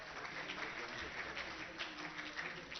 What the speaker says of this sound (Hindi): पुणी थरे जोरदार करताली